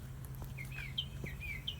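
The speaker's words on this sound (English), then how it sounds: "It is a sweet little bird." A small wild bird that had flown into a house gives a few faint, thin chirps close by against a low background hum, with no talking.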